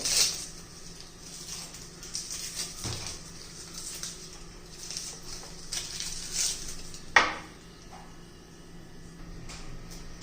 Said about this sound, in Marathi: तोपर्यंत आता पहा, मी एक कांदा चिरून घेते.